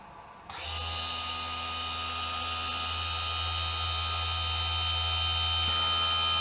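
A hobby table saw's motor starts up with a brief thump, then settles into a steady, loud electric hum with a high whine that runs unbroken, nearby and alone.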